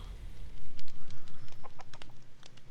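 A Minecraft chicken clucking in the video game, a quick series of about a dozen short, evenly spaced clucks, close and clear, with no talking.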